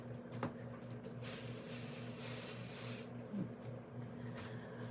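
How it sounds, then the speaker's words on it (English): A can of repositionable adhesive spray hisses steadily onto a mask for about two seconds, close by, with a faint low hum underneath and quiet surroundings before and after. "I'm also going to spray this mask with some pixie spray"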